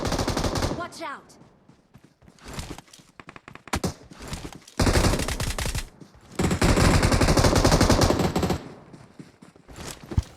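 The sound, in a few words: gunfire from S12 shotgun and pistol in video game PUBG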